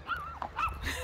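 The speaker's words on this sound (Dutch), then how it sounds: "Dat is een hond. Die gaat helemaal uit zijn stekkertje." A dog barks and whines excitedly in a quick, high-pitched run of yelps, fairly faint and outdoors, heard while a horse is walked around a stable yard.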